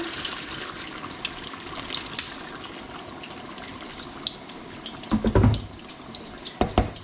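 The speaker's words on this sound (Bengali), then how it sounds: "গরম পানি দিয়ে দিচ্ছি পরিমাণ মতো" Hot water pours steadily into a cooking pot with a soft rushing hiss, followed by a couple of louder splashing bursts near the end.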